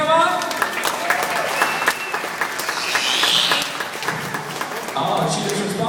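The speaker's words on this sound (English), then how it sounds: "Can I get a round of applause for Panama?" An audience at Clearwater Marine Aquarium applauds for Panama the dolphin, a sustained burst of clapping that carries on for several seconds, with voices and cheering mixed in.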